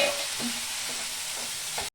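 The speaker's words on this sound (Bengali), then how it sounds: "আমি এখন পটলটা দিয়ে দিব। পটলটা দিয়ে আমি আরেকটু ভাজবো।" Pointed gourd fries in a spice paste, giving a loud continuous hiss of sizzling with soft, regular scrapes from stirring.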